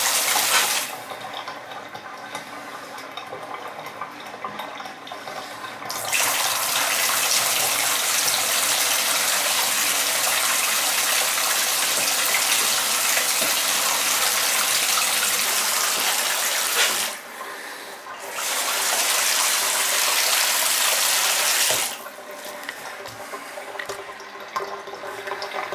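Water rushes loud and steady through a household drain just cleared of a hair clog with a plunger, gushing for long stretches with two brief pauses before surging again.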